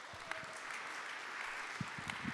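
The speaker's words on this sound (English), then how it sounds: "if y'all could please give a round of applause" Faint, distant audience applause at a Cambodian dance and music performance event, soft dense clapping with a few sharper claps nearby.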